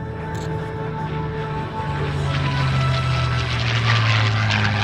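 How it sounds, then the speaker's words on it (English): A WWII fighter plane at an aviation show passes overhead with a loud, rising piston-engine drone and a deep steady hum, no talking. "These are the fighter aircraft."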